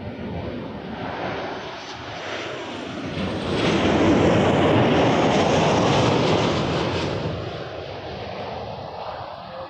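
A jet airliner landing on runway 06 right at Toronto Pearson, its broad engine roar swelling to a loud peak midway and then easing off, heard from nearby with no talk.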